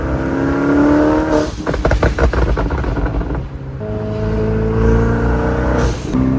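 Ferrari engine with a modified exhaust revving up and down: loud, close throaty roars rising in pitch, a rattling burble as it drops back, then another climbing rev.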